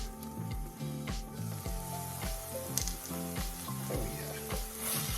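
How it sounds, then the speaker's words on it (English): Steak bites frying in a pan over medium-high heat give a steady sizzle, with rhythmic bursts of music-like tones running throughout and no talk. "we're gonna cook them at medium high heat for another 5 to 7 minutes"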